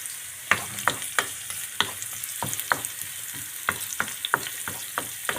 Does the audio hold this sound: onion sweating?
yes